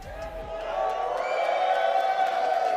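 Esports arena crowd at the Kickoff Classic 2022 cheering and whooping, rising in volume after a second and sustaining a roar with tonal stage sound underneath.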